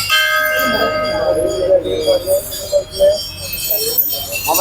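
Temple bells ring at the open-air Sowthadka Ganapati temple, their sustained metallic tones overlapping through a busy, noisy background with voices mixed in.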